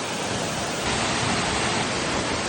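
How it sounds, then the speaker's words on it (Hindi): A waterfall in Assam, India, roars as a dense, steady wall of rushing water, loud and close, unbroken for the whole moment with no voices over it. "फाइनली हम लोग आकर पहुंच चुके हैं वाटरफॉल में।"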